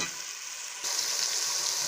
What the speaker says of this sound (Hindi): इसी के साथ टमाटर को भी भूनेंगे